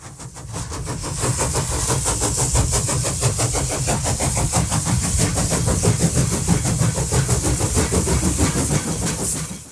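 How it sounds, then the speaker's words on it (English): A train rumbling past close by, loud and steady, with a rapid rhythmic clatter of wheels over rail joints throughout. "It's a train."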